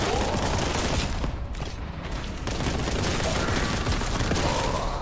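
Rapid enemy small-arms fire in Warhammer 40,000: Boltgun, a dense, continuous crackle of gunshots and bursts filling the whole stretch at steady loudness, with a faint voice beneath.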